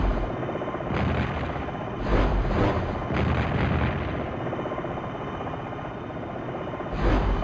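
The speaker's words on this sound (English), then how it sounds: "Notice it takes a while to fire 8 rockets, but what destruction!" An attack helicopter in the flight sim Jane's Longbow Gold fires a ripple of eight rockets: heavy booming launches rumble one after another over a constant rotor drone, loud and close, with a final blast after a short lull.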